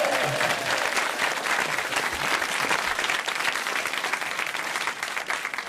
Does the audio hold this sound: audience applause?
yes